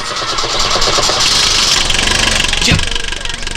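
An old car's engine running close by with a rough, knocking idle, a loud steady rumble with a short surge near the end.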